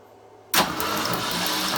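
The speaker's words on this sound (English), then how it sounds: "So we're going to go ahead and crank it over." After half a second of quiet, a 1969 Ford Mustang Mach 1 engine with a hard-start issue suddenly cranks over with its spark plugs pulled for a compression test, giving a loud, sustained, churning starter whir.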